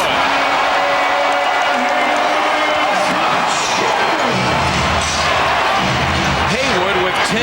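A basketball arena crowd cheers and roars during a Wizards vs Sixers NBA game, loud and building, with sneaker squeaks and a commentator talking over the din.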